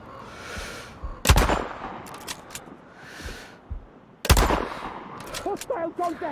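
Gunfire in the Sniper Ghost Warrior Contracts video game: two loud, sharp shots a few seconds apart, each with a long echoing tail, over quiet ambient background with faint game voices near the end.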